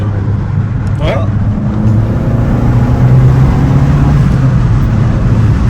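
An Abarth's engine and exhaust drone steadily at close range with the exhaust valves in play, a continuous rumbling hum that swells slightly midway, with voices talking over it.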